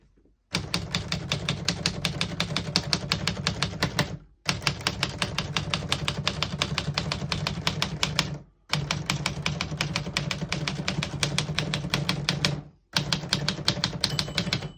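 Typing on a 1951 Smith-Corona Skyriter portable typewriter: rapid, loud, continuous key strikes in three long bursts of about four seconds each, separated by brief pauses.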